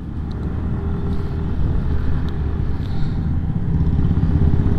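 A Suzuki Access 125 BS6 scooter being ridden, heard as a continuous low engine rumble mixed with wind and road noise, steady and fairly loud throughout without any talking.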